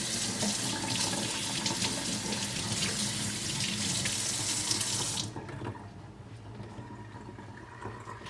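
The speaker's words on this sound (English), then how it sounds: "I'm just about to rinse them and like clean off their little legs because it'll be like dirty" A kitchen tap runs hard as crab legs are rinsed, giving a close, steady gush of water that drops to a softer trickle partway through.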